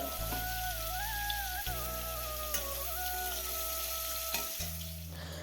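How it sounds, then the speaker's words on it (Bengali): Fish sizzles steadily in hot oil in a pan, a dense continuous frying crackle running the whole time, with a steady hum beneath it and no talking. "আর এদিকে মাছ নিলে মাছটি ধুইয়া তো ভাজা বয়াই দিই"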